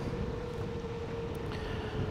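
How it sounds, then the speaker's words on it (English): Steady gusting wind roars across the microphone of an FPV drone flying about 1,000 feet out, a continuous low rumble with a faint hum beneath, no voices. "A little bit windy today."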